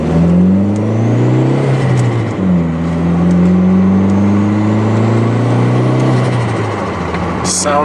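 A Volkswagen MK4 Jetta 2.0T drives at night with a loud, close engine drone that rises in pitch through each gear, dips briefly at a shift, then climbs again under steady road noise.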